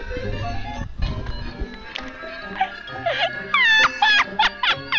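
An infant's cry from the video game GTA 5 rises in several wailing bursts near the end, following a muffled thump and game noise, with a voice speaking briefly.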